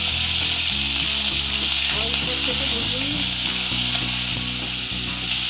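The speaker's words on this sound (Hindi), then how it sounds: "अदरक लहसुन का पेस्ट डाल दूँगी इसमें।" Ginger garlic paste fries in two spoons of hot oil for vegetable kababs, giving a loud, steady, continuous sizzle with a low mechanical hum beneath it.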